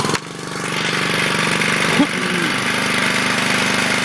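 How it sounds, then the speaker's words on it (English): A MI-T-M Chore Master 2600 PSI pressure washer's small engine runs just after a first-pull start, a steady, close, loud drone with one brief bump partway through. "So as you can see, it started on the first try."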